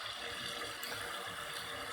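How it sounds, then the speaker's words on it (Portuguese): A beach ocean-wave sound effect in Lumion 9 plays as a steady, even wash of surf and spray, continuous and fairly faint, with no talking. "Temos aqui sons de natureza, que é o que a gente vai utilizar. Então, olha só, águas de onda mesmo"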